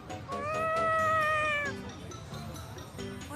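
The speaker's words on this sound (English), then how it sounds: "Were you talking to that kitty?" A cat meows in the video game Tales of Xillia 2: one long, drawn-out, clear meow up front, followed by quieter game background sounds, with no one talking.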